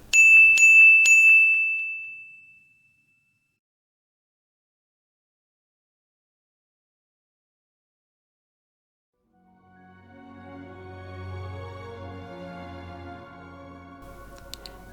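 A small golden bell gives a few bright dings up front, then its ring fades away into silence.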